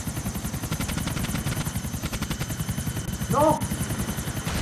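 Helicopter rotor chop in GTA IV: The Lost and Damned, a steady rapid thumping throughout alongside gunfire-like bursts, with excited shouting over it.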